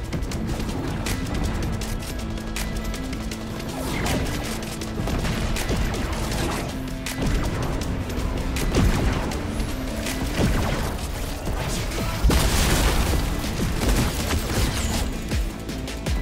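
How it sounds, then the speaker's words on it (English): Rockets fire and explode in Fortnite gameplay amid dense, continuous gunfire and blasts, with repeated sharp bangs layered over a busy mechanical din. "Somebody's shooting rockets at me."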